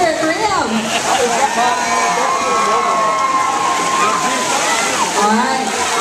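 Crowd at an outdoor block party cheering and whooping loudly for a contestant in a men's high-heels best-leg contest, a sustained roar with shrill whistles and yells.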